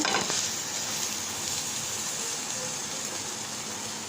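A paratha fries in a pan and is flipped, giving a loud, continuous close-up sizzle with a brief clatter near the start, and no talking.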